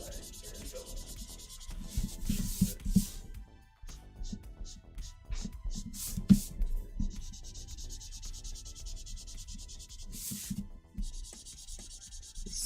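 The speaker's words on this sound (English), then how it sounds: "This paper is sucking up this marker." A marker scratches and rubs across paper in short strokes and longer continuous passes, moderately close, with quiet talk and low background sounds in between.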